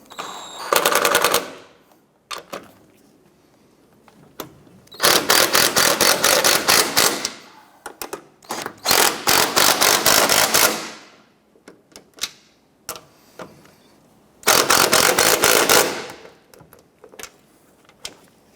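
Upper strut assembly nuts on a 2006-2013 Chevrolet Impala being run down with an impact wrench: several loud, rapid rattling bursts of a few seconds each, separated by short pauses, close by with no talk.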